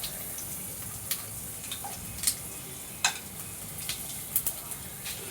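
Green chillies and whole spices fry in a pan, giving a steady low sizzle with a few sharp pops and crackles scattered through it. The sound is fairly quiet and close, with no talking.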